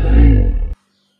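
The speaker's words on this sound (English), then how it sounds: "L for lion." A lion's roar, one loud sustained growling burst under a second long that cuts off abruptly, followed by silence.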